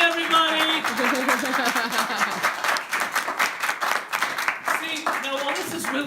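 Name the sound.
audience clapping after magic trick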